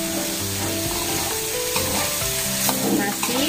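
Cooked rice being stirred into fried spices in a pan for simple biryani, a steady loud sizzle with scraping strokes of the spoon running throughout.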